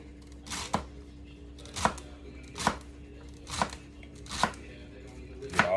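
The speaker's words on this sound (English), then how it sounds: "Try to cut it up in the little fine pieces. Good to have a good sharp knife." A sharp knife chops souse pot ingredients into fine pieces on a board, six distinct, evenly spaced close knocks over quiet room tone.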